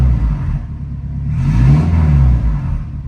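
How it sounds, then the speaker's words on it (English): 2003 Honda S2000 engine revved through its exhaust, a deep close rumble that swells in the middle and then settles back, heard alone without voices. "I wish I could stand behind and while I'm revving it for you to hear how cool it sounds coming out of that exhaust"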